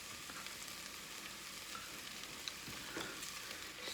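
Beef bourguignon meat sizzles and fries steadily in a pan while being stirred, a soft continuous crackle with faint scraping at low volume.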